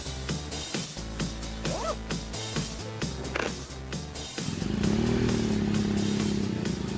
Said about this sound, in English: Just you, the road, and 1200 cc's of pure power. A motorbike isn't just a vehicle to move you from place to place.